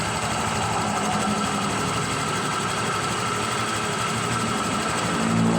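Close-up running of a Honda Click 125 engine with a worn tensioner: a continuous buzzing whir carrying a fast, even clicking rattle, loud and steady with no voices.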